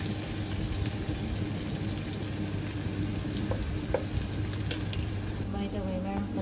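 Meat browning in a hot pan before liver goes in, a steady close crackle and hiss of frying with faint scattered stirring taps, quiet and continuous throughout.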